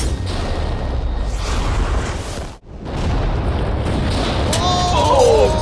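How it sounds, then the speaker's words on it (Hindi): A large TNT blast goes off as a loud, sustained broadband roar that briefly falls away, then swells back into a rumbling, crackling wash that keeps building toward the end. "तेज धमाका था।"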